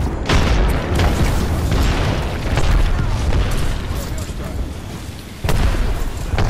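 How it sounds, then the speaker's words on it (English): In Apex Legends, a frag grenade blows up amid heavy, rumbling gunfight noise, with a deep boom punching through near the end while players talk over the action. "All right, frag out."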